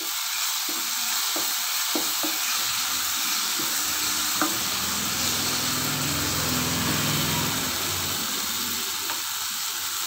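Spices sautéing in hot oil for elephant foot yam chops give a loud, steady sizzle and frying hiss, with light stirring scrapes and clicks of a utensil against the pan throughout.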